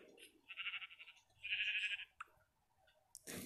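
A sheep set on fire in the video game Minecraft bleats in short, clear calls, two longer bleats standing out among brief clicks and quieter game sounds.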